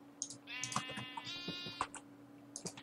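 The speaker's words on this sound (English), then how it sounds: "I feel so much more secure having four sheep now." Sheep bleating in the video game Minecraft, two drawn-out wavering bleats close by, set among light clicks and soft game sounds at low volume, with no talking.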